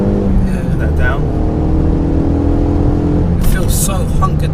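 From inside the cabin of a Renault Megane RS, the engine hums steadily and fairly loudly with a low, sustained tone while people talk over it.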